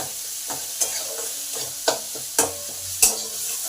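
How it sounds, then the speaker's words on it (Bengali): Tomatoes with salt and turmeric sautéing in a pan while being stirred, a soft continuous sizzle broken by several sharp spatula scrapes and knocks against the pan. "এবার এগুলো আরও ভালো করে দু মিনিট নেড়ে নেবো যাতে টমেটোটা নরম হবে"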